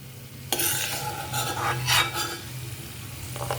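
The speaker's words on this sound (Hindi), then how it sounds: "काजू को हल्का सुनहरी होने तक फ्राई कर लेना है।" Cashews sizzle in hot oil in a pan while a spoon stirs and scrapes them in a few bursts; steady, close frying hiss with no talking.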